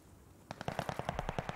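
Rapid automatic gunfire in a Call of Duty search-and-destroy match, a sharp burst of about a dozen evenly spaced shots starting abruptly after a quiet lead-in, fairly faint in the mix.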